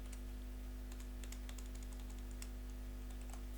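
Keystrokes on a computer keyboard while HTML code is typed, a sparse run of light clicks over a steady electrical hum, with no talking.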